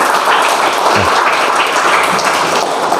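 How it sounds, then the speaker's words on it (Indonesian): Classroom applause during a geography lesson, a steady wash of many hands clapping together throughout, fairly loud and even with no pauses. "Oke, tepuk tangan dulu semuanya."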